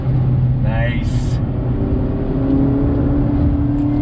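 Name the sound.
Mazda MX-5 Miata RF engine induction growl while accelerating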